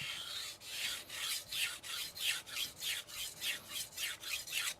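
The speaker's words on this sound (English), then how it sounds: "That good old sound of resinoid stones." A blade scrapes rhythmically across a resinoid whetstone in steady back-and-forth strokes, about three per second, close and clear with no talking.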